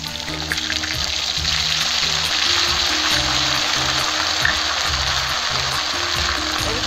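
Ginger-cumin paste frying in hot oil with potatoes for a Bengali tangra fish curry gives a steady, loud, dense sizzle throughout, with background music underneath.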